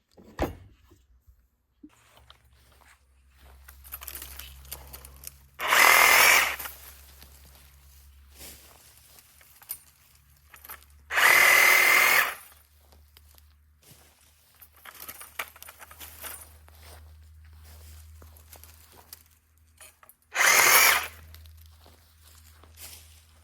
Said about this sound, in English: I'm going to go cut a few branches with these and show you how it works.